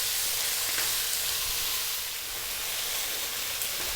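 Potatoes sautéing in a pan for corned beef and vegetables: a steady, close sizzling hiss that holds evenly throughout with no voices.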